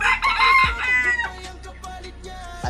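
A stray rooster crows loudly close by, one strong cock-a-doodle-doo, followed by a few fainter trailing calls in an open rural morning setting.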